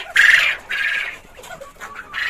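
Large hens of a new parent flock cluck and squawk in a poultry house, a few bursts of bird calls close by with short gaps between them.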